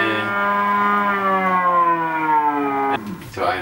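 A 48V electric watermaker motor aboard a catamaran runs at about 1500 RPM, giving a loud, steady whine whose pitch slowly drifts before a brief drop and a short clatter at the end.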